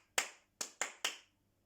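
Hand claps in a short rhythm during a children's music lesson on rhythm and tempo: four crisp, close claps, one alone, then three quick evenly spaced ones, with no voices.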